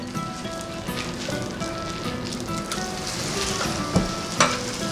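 A grilled cheese chicken sandwich fries in a pan, giving a steady close sizzle and crackle with a couple of sharper pops near the end, and no talking.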